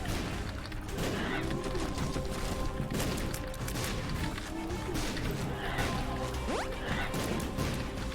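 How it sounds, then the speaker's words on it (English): Fireworks go off in rapid, dense succession at a nearby housing estate, a continuous crackle of bangs and pops with one whistling rise near the end, moderately loud throughout. "Jesus, they've got a lot of fireworks."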